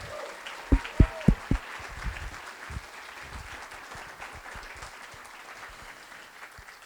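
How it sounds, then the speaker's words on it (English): An audience gives a round of applause for storytellers at an evening storytelling event, with a few loud near claps at the start and then steady scattered clapping that slowly tapers off. "Let's get one more round of applause for all of our storytellers tonight."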